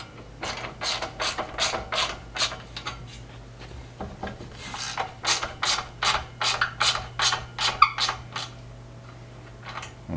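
A hand ratchet tightens a bolt on the upper front brush guard of a Polaris Ranger XP 1000 in quick, rhythmic bursts of close clicking, with short pauses between strokes.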